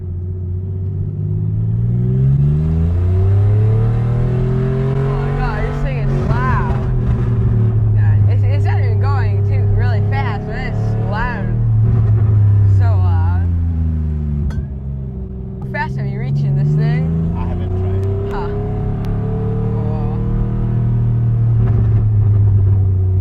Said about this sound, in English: Okay, so now we're test driving this wild car, and it is so loud.